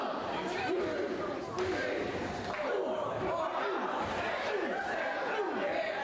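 Wrestling crowd at a TLC ladder match in an arena, a dense continuous roar of many voices with rhythmic rising chant swells, as if counting along, loud and sustained throughout.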